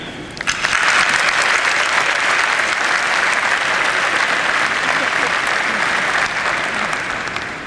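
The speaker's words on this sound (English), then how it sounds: "let us give a bigger round of applause to those who have helped us through these past 4 years" A graduation audience applauds in loud, sustained clapping that fills an indoor hall and holds steady for several seconds before easing slightly.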